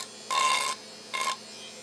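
A small Dremel sanding bit grinds along the edge of a wooden block decoration in two short bursts, the first longer than the second, with near silence between them.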